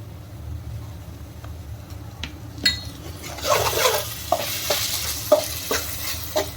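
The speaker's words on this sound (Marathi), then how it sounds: "आणि आता आपण याच्यामध्ये टाकत आहोत अद्रक लसूणची पेस्ट." Two tablespoons of ginger garlic paste fry in a pan for chicken sukka, a rising close sizzle punctuated by repeated scrapes and taps of a spoon stirring against the pan.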